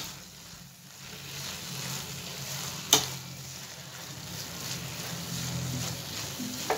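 Carrot halwa stirred and roasted on a high gas flame, a soft continuous sizzle with slow scraping strokes and one sharp clink of a spoon against the pan, close but quiet, with no talking.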